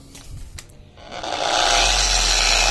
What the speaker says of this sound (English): This goes on to my polisher, and I basically, same concept, I lube it up